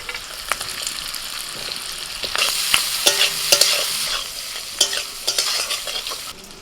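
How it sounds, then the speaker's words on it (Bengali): Tomatoes frying in a pan with capsicum, salt and Kashmiri chili powder make a steady close sizzle, broken by repeated scraping stirs and clinks of a spatula against the pan. "হালকা করে ভেজে নিয়ে এবার নামিয়ে নিচ্ছি টমেটোটা"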